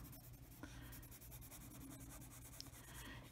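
Colored pencil dragged across paper in an adult coloring page of mermaids and sea creatures, a steady, close, soft scratchy rubbing with brief stroke accents, heard alone.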